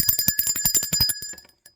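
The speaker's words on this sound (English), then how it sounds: "Let's ring the bell for that." A small bell rings in a quick series of about a dozen bright, even strikes, each note clear and sustained, sounding alone before it fades out.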